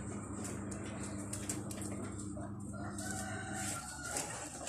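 Chickens and a rooster in the countryside of a rural village: the rooster crows loudly and nearby amid steady clucking, over a constant low background hum, with no talking.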